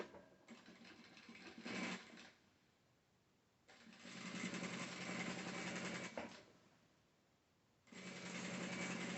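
A sewing machine stitching through clear crystal plastic for a wallet pouch, running in three steady whirring bursts separated by quiet pauses, close and alone without talk.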